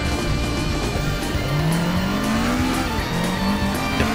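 A Toyota Sprinter Trueno AE86 in Fujiwara Tofu Shop spec, driven in Assetto Corsa, makes a loud, close engine note that climbs steadily in pitch through the gears, with a brief dip and a constant road roar underneath.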